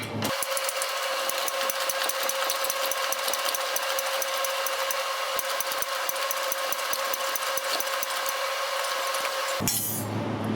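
Hydraulic press forcing a rubber-metal bushing deeper into a buggy rear suspension arm, with a spacer added under the press head; a steady, loud mechanical whine and hum with rapid ticking runs continuously and then cuts off near the end.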